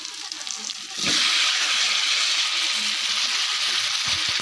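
Tomatoes, three of them, drop into a hot pan of browned spices for Rajasthani-style North Indian dal, setting off a loud, steady sizzle that jumps up suddenly and holds, close by, with no talk over it.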